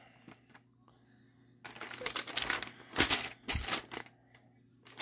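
Paper pages are shuffled and crinkled up close in a few short bursts of rustling, with quiet gaps between them.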